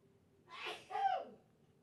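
A single sneeze somewhere in the background, a two-part breathy burst, the sharp second half a little louder, quiet and set apart from any talk.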